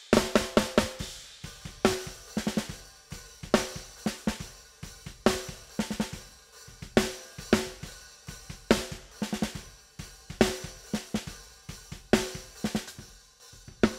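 An acoustic snare drum, recorded with top and bottom microphones for an industrial rock song, plays alone as a fast, busy pattern of sharp, bright hits with accents and ghost notes running steadily throughout.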